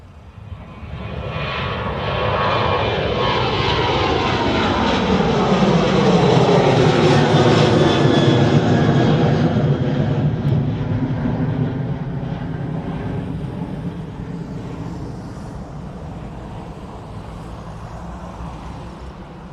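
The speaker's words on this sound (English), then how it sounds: "should lead us nicely to the Ryanair taking off" Ryanair jet airliner taking off at Dublin Airport, engine roar building from a distance to a loud rushing peak with a sweeping pitch shift, then slowly fading as it climbs away.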